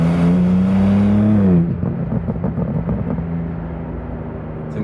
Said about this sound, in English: I think now the exhaust is really warmed up. Sounds even better.